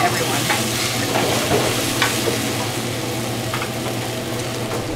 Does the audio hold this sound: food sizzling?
yes